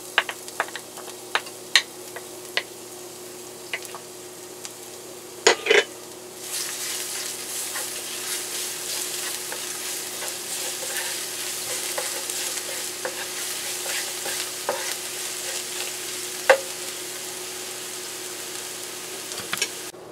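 Garlic frying in cooking oil: scattered ticks and scrapes at first, then a steady broadband sizzle swells up and holds, close and fairly loud, with occasional sharp utensil clicks, no voices.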